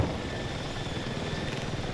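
Helicopter in the video game Battlefield 6, a steady whirring rotor and engine drone held at an even level throughout, with no voices.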